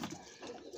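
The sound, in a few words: pigeon cooing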